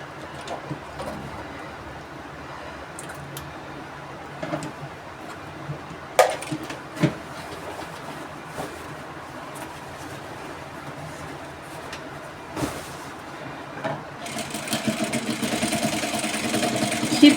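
A sewing machine top-stitches the six-inch section of a side pocket with a low, steady mechanical whirr, broken by a few sharp clicks and knocks, and a louder, busier run of stitching toward the end.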